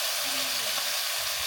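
Cabbage, broccoli, carrots, potatoes and paneer frying in a pan, a steady, fairly loud hiss of sizzling that holds evenly through the short stretch.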